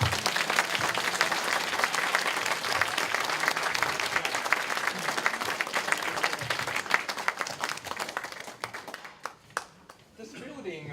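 An audience applauds donors at the opening of the South Bay Center, sustained dense clapping with some crowd noise and voices mixed in, tapering off near the end.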